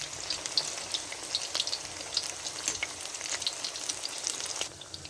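Keema pakoras bubbling in hot frying oil, a steady close crackling sizzle with scattered sharp pops and spits throughout, no voices.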